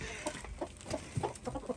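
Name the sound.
chicken clucking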